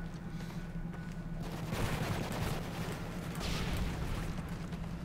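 Gunfire in the video game Modern Warfare 3 during a free-for-all match, heard as a rapid, dense rattle of shots swelling in bursts around a low game rumble, fairly quiet overall with no voices.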